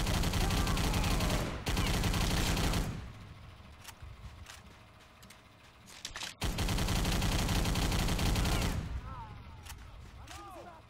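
Bursts of BAR automatic rifle fire in the Iwo Jima mission of the Xbox 360 game Battle for the Pacific, loud sustained rattling volleys broken by a quieter pause, with a voice talking over them.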